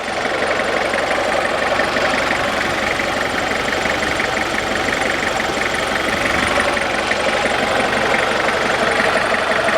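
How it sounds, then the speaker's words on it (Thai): An old 1996 Toyota Mighty X pickup engine idles steadily and loudly up close, with a rough, even knocking rumble and no voices. "ฟังเสียงเครื่องยนต์ครับผม"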